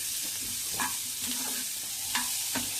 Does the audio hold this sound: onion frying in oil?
yes